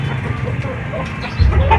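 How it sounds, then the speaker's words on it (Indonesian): A chicken suffering from snoring respiratory illness gives short clucking, rasping sounds close by, with faint background noise and a louder burst near the end. "ayam saya ngorok satu."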